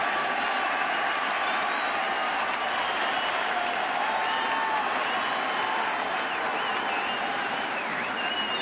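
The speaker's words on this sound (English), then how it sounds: "this crowd applauded" A large stadium crowd at a World Series baseball game applauds steadily, a dense roar of clapping with some cheering and mixed voices, continuous and loud throughout.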